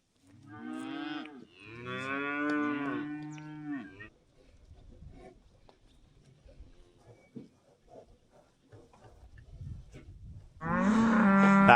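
Cattle, one of them an injured cow, being herded into a shed during harvest; two long, loud moos open the scene, then quieter shuffling and faint sounds, before another strong, close moo at the end.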